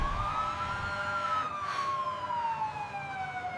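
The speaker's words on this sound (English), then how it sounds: "That is an ambulance, Tom. It carries people who need help fast. The loud sound is a siren." An ambulance siren wails, sweeping up and then slowly down in pitch, steady and fairly loud, passing by with no one talking.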